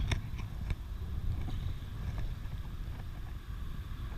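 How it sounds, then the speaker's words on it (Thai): Strong wind blows across open water during a high tide, a steady broadband rush with faint knocks and splashes near a small boat, with no voices. "ลมแรงนะครับตอนนี้"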